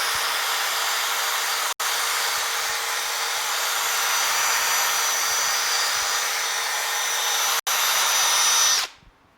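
A power sander runs at a steady high whine while working fine scratches out of a surface. It cuts out briefly twice, then spins down at the end, with no voices.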